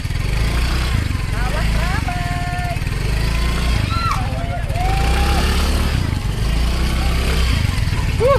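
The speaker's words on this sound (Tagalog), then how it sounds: "Buti kinakaya niya yung motor ng yun" Motorcycle engine chugging steadily at low revs while riding through slippery mud, close and continuous, with people talking and calling out over it.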